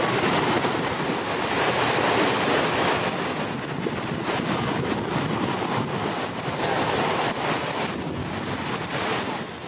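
Ocean waves wash steadily onto a beach in Bali with a continuous, loud roar of surf, mixed with heavy wind buffeting the microphone and no voices.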